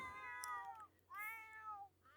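Cats meow indoors late at night, with two or three drawn-out, wavering cries in quick succession, moderately faint and close, and no talking over them.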